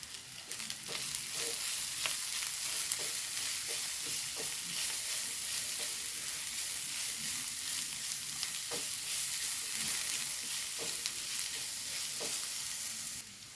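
Masala with coriander leaves stirred in a pan while frying for a special fried egg dish, a steady soft sizzle with repeated light spatula scrapes and taps throughout, moderately close and without talk.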